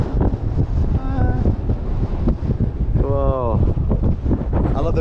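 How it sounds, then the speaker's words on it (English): Strong wind buffets the microphone on the open deck of a Disney cruise ship at sea, a loud, constant rumbling roar, while people talk and exclaim over it. "It's just windy."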